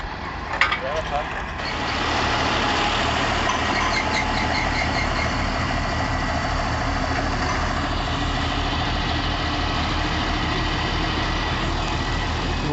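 A YTO 160 horsepower 4x4 tractor idles with a steady low diesel rumble and vibration, close and continuous, with brief faint noises at the start.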